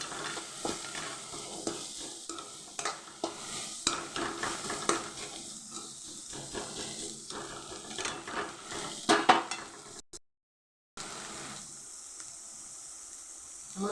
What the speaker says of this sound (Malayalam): പച്ചമുളകും നല്ലോണം ഒന്ന് ഇളക്കി ലേശം ഒരു കളർ മാറുന്നവരെ വറുക്കാം.